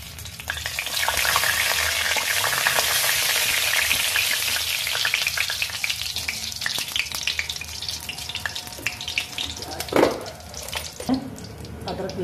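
Cumin seeds sizzling in hot oil in a cooking pan: a steady, close crackling fry throughout, with a couple of brief utensil clinks near the end.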